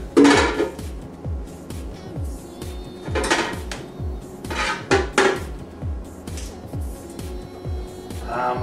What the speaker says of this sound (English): I'm going to take the rest of my onion, put it in my pan